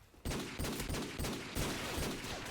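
Video game gunfire bursts out in loud, rapid volleys that start abruptly and continue in dense repeated shots.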